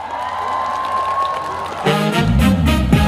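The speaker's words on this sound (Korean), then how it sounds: "여러분 박수 많이 주세요" Festival crowd at an outdoor trot concert, a faint hum at first, then applause and cheering swell up together with the start of the band's music partway through.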